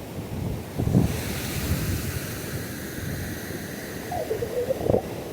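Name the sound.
waves and wind on a beach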